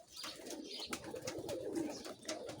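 Bukhara pigeons coo softly and repeatedly nearby, their low throaty calls overlapping with faint rustling and flutters in the background.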